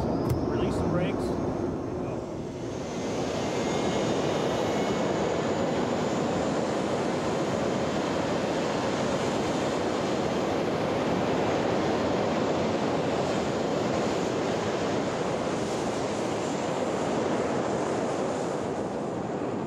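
A U-2 spy plane's jet engine powers up for takeoff, a dense, steady roar that swells after a few seconds and holds loud and broad for the rest, with wind-like rush and no clear voices.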